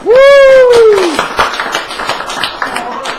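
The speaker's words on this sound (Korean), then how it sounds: "우리 자신들한테 일단 한 박수 한번 치고" A lecture audience claps for themselves, a short vocal sound at the start giving way to a burst of scattered, uneven claps that thin out toward the end.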